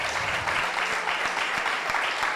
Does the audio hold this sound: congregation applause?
yes